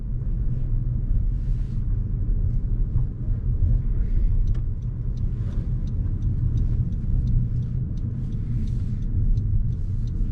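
A manual transmission car pulls away in second gear after the clutch is released, giving a steady, loud low engine and road rumble that continues throughout with no talking.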